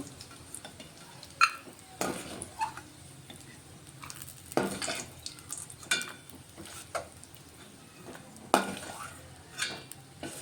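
Dry fruits frying in a pan with a metal spoon scraping and stirring, irregular clinks and scrapes over a soft background sizzle, fairly close and moderately loud.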